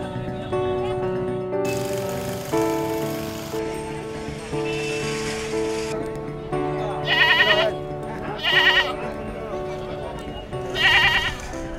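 Goats bleating at a crowded livestock market before Eid al-Adha, with several loud, wavering cries in the latter half rising over a steady background of voices and market noise.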